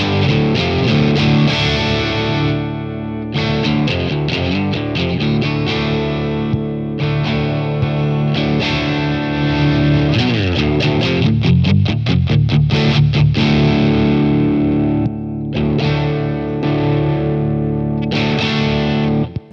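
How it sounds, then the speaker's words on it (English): Electric guitar through a Gokko GK-60 Salem Boost overdrive pedal, chords and riffs ringing with thick clipped distortion, loud and steady with brief pauses between phrases. "it lets you just add some overdrive and some clipping to the signal."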